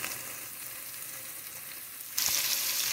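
Pork with chile fries in a pan over medium heat, a steady close sizzle that grows louder near the end as the meat is stirred.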